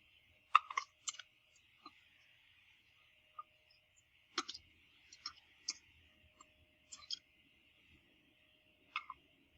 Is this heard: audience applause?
no